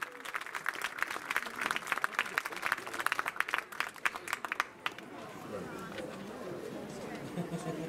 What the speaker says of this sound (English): Let's give a huge round of applause to all the candidates and to our new royalty.